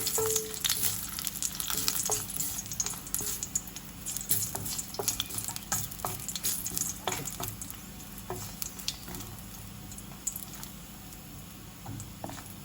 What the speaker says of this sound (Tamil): நான் இதுக்குள்ள இப்போ இந்த செத்தரை போட்டு பொரிக்க போகிறேன்.